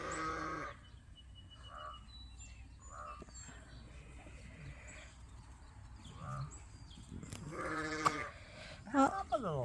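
Ewes bleating repeatedly in a pen during sorting and weaning on a sheep farm, several distinct bleats spread across the moment, some near and loud, with people talking between them.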